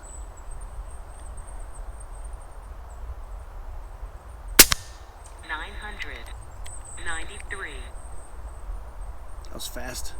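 A single sharp shot from an FX Impact M4 air rifle cracks out once, loud and close, in an otherwise quiet outdoor setting with insects, followed by faint clicking handling sounds.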